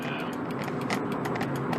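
Rapid, regular ticking clicks over a steady mechanical hum inside a Volkswagen Polo GTI, fairly close and persistent throughout.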